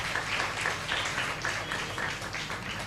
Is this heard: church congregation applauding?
yes